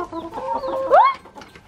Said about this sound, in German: den Rest bekommen dann unsere Hühner. Die stehen eh schon parat.